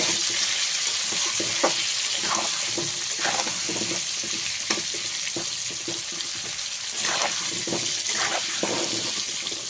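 Potato pieces with salt and turmeric fry in hot oil, a continuous sizzle with frequent stirring scrapes spread across the whole stretch.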